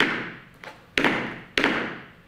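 Three clunk steps in tap dance shoes, hard percussive thuds on the floor: a softer hit, then two loud ones roughly half a second apart, each ringing briefly in a quiet room.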